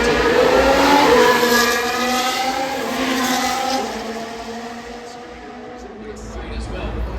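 A Formula 1 car runs along at low speed on the Singapore Grand Prix street circuit, its engine a sustained, wavering drone that fades slightly over the seconds, heard under steady commentary.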